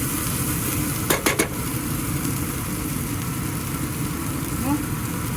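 Spices stirred and frying in a pan for a Sorak curry make a steady close sizzle, broken by a few quick scrapes of the utensil, with brief talk over the cooking.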